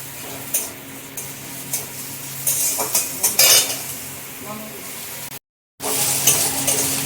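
Onions frying in a pan with ginger-garlic paste: a utensil scrapes and taps against the pan in repeated strokes over a continuous sizzle, close and fairly loud, broken by a brief silent gap, with no voices.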